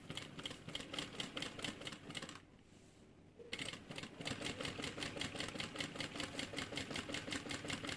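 A sewing machine stitches along the edge of a handmade bag, running in a fast, even mechanical chatter of close needle strokes, pausing briefly for a second, then resuming at the same steady rhythm.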